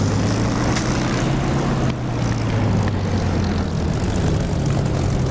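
Propeller aircraft engine in the DCS flight simulator, running at a steady, loud drone with a strong low hum and broadband roar, unbroken for the whole stretch with only a slight dip partway through.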